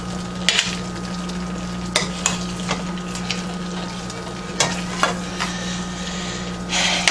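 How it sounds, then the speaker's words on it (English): Meatballs sizzling in a pan as they are gently flipped into sauce, a steady close fry hiss with occasional soft scrapes and taps of the utensil, alone over a faint steady hum. "gently flip them over into that sauce"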